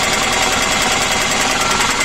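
A BS4 auto rickshaw engine runs at a steady idle, with dense, continuous rattling and mechanical vibration holding at the same loudness throughout, close up and with no talk.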